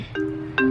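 Phone ringtone announcing an incoming call: two short, bright electronic tone bursts, one after the other, loud and near with no talk.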